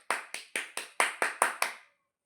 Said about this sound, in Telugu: happy claps